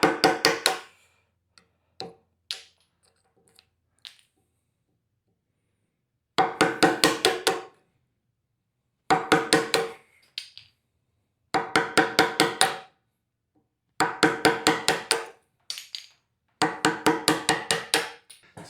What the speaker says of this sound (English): I was chiseling over here to pop it